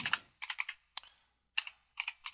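Soft, close keystrokes on a computer keyboard as a web address is typed, coming in small quick clusters with short gaps between them, with no other sound.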